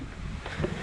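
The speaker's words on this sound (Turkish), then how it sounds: "Kaç gündür şu rüzgara hasret kaldık ya." Steady wind blowing outdoors on a hot day near a staircase, a constant rushing buffet across the microphone with no pauses.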